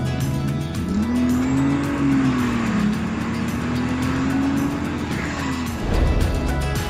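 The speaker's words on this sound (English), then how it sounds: "The megaphone-style turbo connecting hose also provides a unique powerful intake sound on acceleration." A Ford Territory with an HDi GT2 390 turbo and Pro Stage 3 intercooler kit revs under acceleration, a loud close engine note rising and holding, with tyre squeal toward the end.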